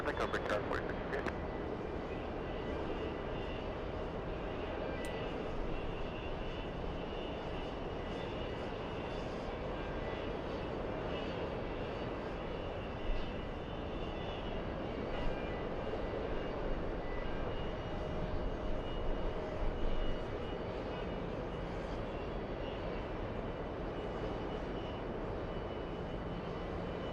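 Boeing 777 jet taking off from runway 22 right at JFK Kennedy airport, a continuous distant engine roar that holds steady for nearly half a minute, with brief radio chatter heard faintly under it.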